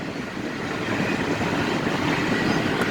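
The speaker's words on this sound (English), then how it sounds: "looks like it's a UP freight train just going by Lawndale and Lincoln area." A Union Pacific freight train rolls past near Lawndale and Lincoln in Atlanta, Illinois, a steady broadband rumble and rattle of wagons that holds at an even, fairly loud level throughout with no talking.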